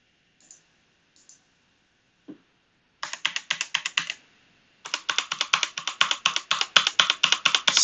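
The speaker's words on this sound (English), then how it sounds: "Spam the delete key." The delete or backspace key on a computer keyboard is hammered repeatedly in quick clicking bursts. A few isolated taps come first, then a short run, then a long, fast, rhythmic string of close, crisp key presses.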